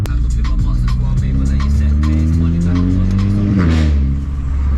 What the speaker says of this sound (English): Ooh, the car sounds bad.